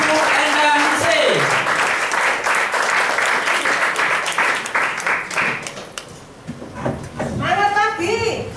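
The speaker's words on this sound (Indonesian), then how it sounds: "kita beri aplaus yang sangat meriah yaitu Ibu Endang Ningsih" Audience applause at a Prudential Harvest Agency gathering for Ibu Endang Ningsih, a steady loud wash of clapping lasting most of the moment, easing briefly before cheering voices and announcer talk come in near the end.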